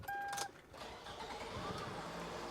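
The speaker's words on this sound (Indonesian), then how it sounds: "Suara mesin halus." A 2003 Toyota Camry engine idles smoothly with a steady, even hum, preceded by a brief higher-pitched whine at the start.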